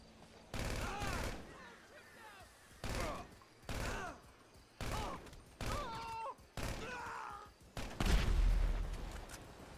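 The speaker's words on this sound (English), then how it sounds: "We're gonna use the micro SMG." Micro SMG gunfire in a roleplay video game: several rapid automatic bursts, each under a second, come in a rhythmic sequence of separated volleys, with faint voices underneath.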